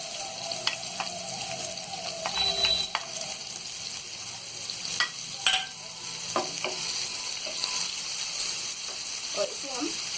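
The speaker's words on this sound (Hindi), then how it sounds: "और इसे हम हल्का गोल्डन ब्राउन होने तक फ्राई करेंगे।" Chopped onions fry in a pan over garlic already cooked in oil for restaurant-style dal makhani, a soft steady sizzle with occasional stirring scrapes and clinks, no talking.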